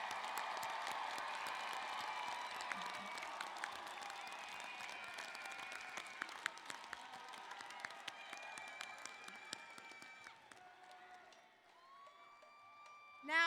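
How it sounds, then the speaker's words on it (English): Steady applause from a large audience at a university winter commencement ceremony, dense clapping filling the hall for the full stretch, with a brief louder swell right at the end. "Let's have one more round of applause for our master's and specialist graduates."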